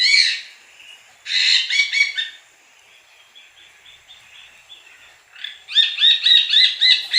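A parrot gives harsh, raspy calls in three loud bursts, the last a rapid repeated series. Fainter chatter fills the gaps, close and clear with no voices.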